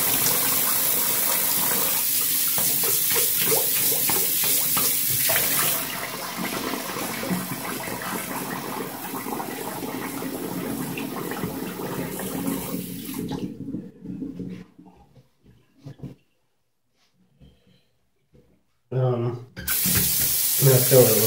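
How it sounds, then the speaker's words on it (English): Tap water runs steadily for rinsing a face, splashing continuously under a voice before the flow stops, then resumes briefly near the end. "Let me rinse off my face once again."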